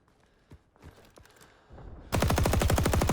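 A Browning M1919A6 .30 cal machine gun in the video game Rising Storm 2 rips into a loud, sustained burst of rapid, evenly spaced shots, preceded by a few soft clicks and footstep-like handling noises.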